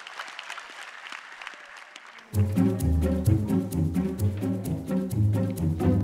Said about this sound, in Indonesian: Beri tepuk tangan buat Anjas.